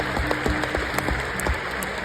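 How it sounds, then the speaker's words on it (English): An audience claps in steady, quiet applause at an event, a brief soft patter of many hands heard from some distance. "Let's give them a round of applause."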